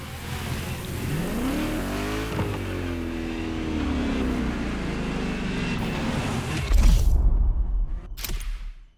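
Ferrari GTO driving in The Crew Motorfest racing game, a loud engine revving up through gears with sweeping pitch changes, then a sharp whoosh and burst of noise before cutting out.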